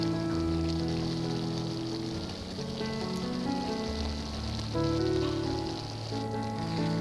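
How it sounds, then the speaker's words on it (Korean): Vegetables, bacon and sausage simmer in tomato sauce in a pan for egg in hell shakshuka, producing a steady, close sizzling and bubbling hiss under soft tonal background music. "야채가 한 반 정도 익었을 때 토마토 소스를 넣어주시고요. 그래서 같이 좀 끓여주세요."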